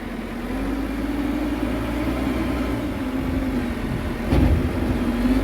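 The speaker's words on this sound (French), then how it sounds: "Oh, le tracteur comment il bouge." Tractor engine running steadily while moving on a farm during a manure unloading job, a continuous mid-pitched drone with a brief louder knock near the end, no talking.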